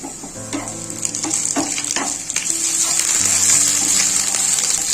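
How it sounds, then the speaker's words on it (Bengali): Onions fry with ginger garlic paste in a pan, a steady close sizzle with clinks and scrapes of stirring over a low background hum. "পেঁয়াজটা এখন লাল লাল মতো করে ভেজে নেবো।"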